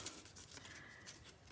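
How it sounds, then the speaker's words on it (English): Scissors snipping into paper to cut out a letter for a Valentine's Day scrapbook layout, a few quick, light, close cuts in a quiet room. "I can snip my scissors in"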